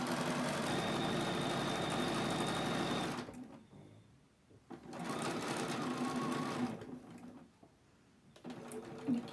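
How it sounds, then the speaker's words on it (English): A sewing machine stitching a curved seam on a fabric scrub cap, running in steady bursts with two short pauses between rapid, even stitching runs. "stitch along that entire one edge, matching the raw edges as I go."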